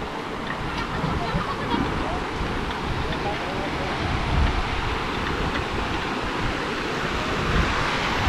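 Continuous rushing water roars steadily at Siddhkhol Waterfall near Kasdol, heard from above the falls, dense and loud throughout with no pauses.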